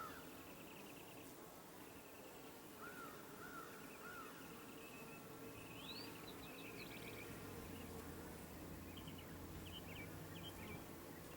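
Honeybees buzz steadily during a June beehive inspection, a dense continuous hum filling the background, with scattered bird calls faintly in the distance and no talking.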